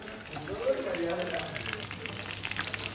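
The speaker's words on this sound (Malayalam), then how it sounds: "chicken fry വച്ചുകൊണ്ടിരിക്കുന്നു" Chicken frying in a pan for an Eid biryani meal, a soft steady sizzle with faint crackles, fairly quiet throughout with faint voices in the background.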